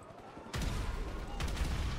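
A sudden burst of rapid gunfire in the video game GTA 5 erupts after a quiet moment, loud and dense, with a second flurry of shots close behind.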